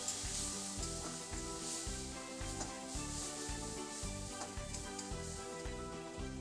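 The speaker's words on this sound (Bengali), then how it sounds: "আমি মশলাটাকে একটু ভেজেই জল ঢেলে দিতে হবে নাহলে মশলাটা পুড়ে যাবে" Spices, Kashmiri chili powder and turmeric, fry in oil in a pan for a Bengali mustard hilsa dish, giving a steady close sizzle with faint scraping stirs running throughout and no talking.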